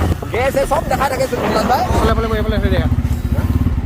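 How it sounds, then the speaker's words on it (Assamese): A Bajaj Pulsar N250 motorcycle engine runs with a steady low throbbing pulse beneath someone talking almost continuously, close and moderately loud. "গাইছ নিউ বাইক Pulsar N250 চলাইছো"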